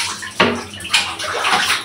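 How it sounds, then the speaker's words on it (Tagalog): Water splashes and pours while soap is rinsed off a face during a bath, with a few quick close splashes over a steady running flow, no voices. "So ngayon magbabanlaw na tayo dahil nagsabon tayo ulit."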